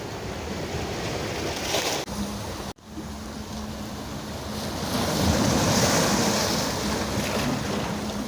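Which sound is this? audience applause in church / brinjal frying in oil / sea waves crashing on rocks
sea waves crashing on rocks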